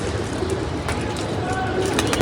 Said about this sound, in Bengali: একটা নামতেছে কবুতর হাইটের থেকে আস্তে আস্তে